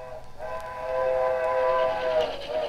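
A steam train whistle blows one long, sustained chord of several tones over low rumbling rail noise, heard on an old recording of a presidential train tour from around 1919.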